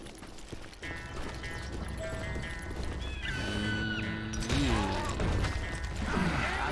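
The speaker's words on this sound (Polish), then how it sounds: "Koń." Horse hooves gallop with a steady clip-clop in the Call of Juarez Gunslinger western game, with a neigh, under a dense mix of music and game effects.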